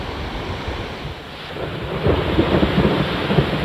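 Heavy rushing water of a rain-swollen torrent in a green scenic spot during monsoon floods in Maharashtra, a steady broadband roar that swells louder in the second half, with no voices.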